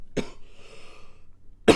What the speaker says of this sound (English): If I could stop coughing